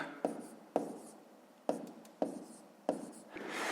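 Pen or pencil scratching out fifth-grade math by hand, several short strokes in a steady rhythm, close and quiet with no talking.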